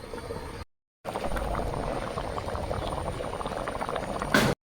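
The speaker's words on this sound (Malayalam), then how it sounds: "നമ്മുടെ അവിയൽ ഇതാ നല്ല രീതിക്ക് തിളച്ച് വരുന്നുണ്ട്" A pot of Kerala avial, a mixed vegetable curry, bubbles steadily on the stove, a close continuous burbling simmer after a short silent break, ending in a sharp clatter.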